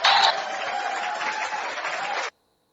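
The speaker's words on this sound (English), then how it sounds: "See, they're applauding now." Applause from a live audience fills the room, a dense steady patter of many clapping hands that swells loudly at first, holds evenly for about two seconds, then cuts off abruptly into silence.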